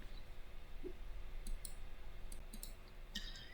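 Computer mouse clicks on a quiet desk, several soft, brief ticks scattered through the span, including quick paired clicks, faint against low room hiss.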